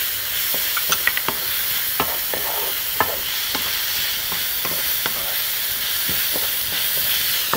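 A pan of frying minced garlic, onion, and colored bell peppers with salt and pepper sizzles steadily while a utensil stirs it, sharp scraping clicks scattered irregularly over the continuous hiss.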